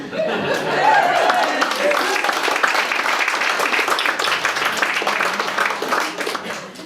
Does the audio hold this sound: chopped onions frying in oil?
no